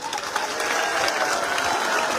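A large village crowd in rural Rajasthan applauds at a statue unveiling, loud sustained clapping from many hands filling the air steadily.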